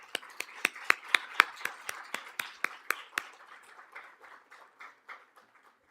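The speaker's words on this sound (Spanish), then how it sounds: "Un aplauso, por favor." Sparse, slow claps ring out on a stage event welcoming an ambassador: a dozen or so sharp hand claps at a steady rhythm, then fading into quieter, trailing claps as the applause dies away; no talking.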